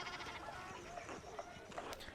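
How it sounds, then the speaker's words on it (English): Sheep bleat in the medieval adventure game Pentiment, several short calls scattered over a steady background of ambient game sound and music, with a faint voice murmuring beneath. "There are so many sheep."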